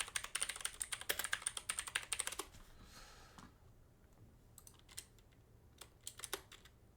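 Rapid typing on a computer keyboard opens the recording, followed by a pause and then a few scattered keystrokes, all close and fairly quiet with no talking.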